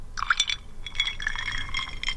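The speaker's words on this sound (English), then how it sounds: "the next stage is to fill the glass with another big slug of whiskey" Whiskey free-poured into a glass for an old-fashioned, heard up close as a short, bubbling trickle with light glassy clinks, pausing briefly before the liquid flows on.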